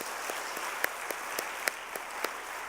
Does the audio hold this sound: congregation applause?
yes